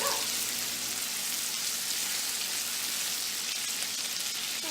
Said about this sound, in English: now that these are cooking and they're sizzling good